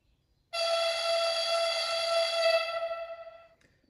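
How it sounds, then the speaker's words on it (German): A model locomotive whistle from an ESU Loksound 5 sound decoder in a Piko BR 120 sounds a single sustained, bright multi-tone blast lasting about three seconds before fluttering and fading away, with no voices. "Und unter F3 die Pfeife."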